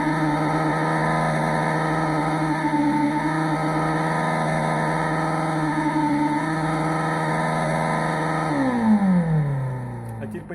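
A cheap engine sound emulator on an inexpensive electric motorcycle at full throttle gives a loud, steady synthetic engine drone with layered buzzing tones, then its pitch sweeps downward as the throttle is released near the end.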